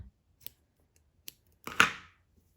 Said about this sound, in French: Et je coupe le fil.